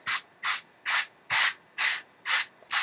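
A sanding sponge lightly sands wood along the grain, light rhythmic strokes rasping across the surface, about seven evenly spaced swishes with brief quiet gaps between them.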